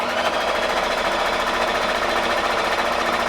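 A sewing machine runs its widest stitch at the lowest stitch length, a loud, fast, continuous mechanical rattle held at an even level throughout, close up and with no talking.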